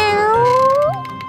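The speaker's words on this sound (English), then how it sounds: "Look, it's a gray kitten." A gray kitten in a children's cartoon gives one drawn-out meow that rises steadily in pitch and then breaks off, loud and close, with no other sounds.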